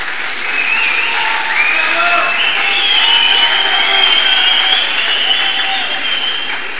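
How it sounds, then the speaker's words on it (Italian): Audience at a design event applauding, a dense, loud, sustained wash of clapping from a large crowd, with faint voices and whistle-like tones mixed in. "questi meritano veramente un applauso"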